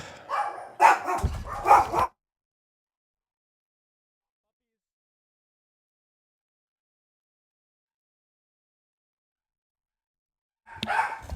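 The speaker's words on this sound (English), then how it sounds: "Oh my god, my dogs." Dogs barking in short bursts near the start, then a long silence before another brief burst at the end.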